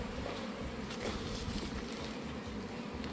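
Honey bees buzzing at an open hive during a spring gallberry and palmetto honey flow, a dense continuous close-up hum with no gaps and no talk.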